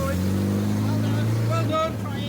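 A classic car's engine runs with its exhaust knocked off, a loud, raw, close drone that holds steady and then drops in pitch near the end, with voices talking over it.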